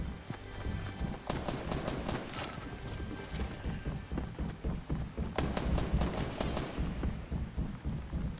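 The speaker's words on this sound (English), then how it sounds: "I hear shots going off" Gunfire in the Fortnite Mobile video game, a rapid series of sharp shots in irregular bursts over a busy game background, moderately loud throughout.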